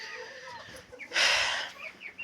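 Chickens cluck softly in a farmyard, with a brief louder squawk near the middle, faint and close, against quiet background noise.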